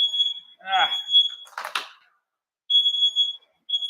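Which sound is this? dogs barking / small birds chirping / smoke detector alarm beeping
smoke detector alarm beeping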